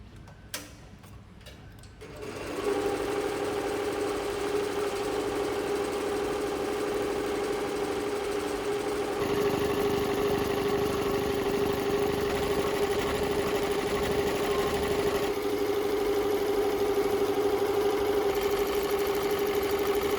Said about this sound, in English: Now we can click Start button to get started the embroidery.